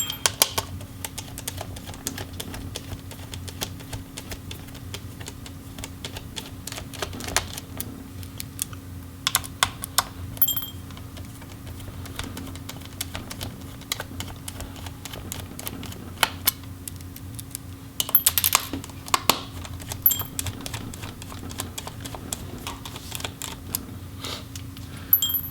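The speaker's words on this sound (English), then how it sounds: "And then we can remove those hard drive caddy screws." Small screws being backed out of a hard drive caddy inside an Alienware M15 R1 laptop, heard as a run of faint, close clicks and ticks over a steady low hum, with no talking.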